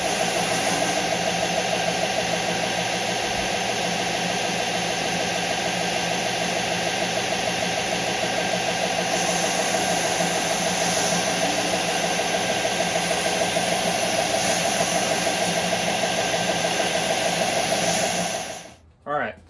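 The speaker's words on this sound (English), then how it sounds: "strung up like a bow while we are grinding it down on the grinder" A grinder runs steadily and loudly, grinding down a bamboo bow stave that is strung up like a bow, holding a constant whine until it cuts off abruptly at the end.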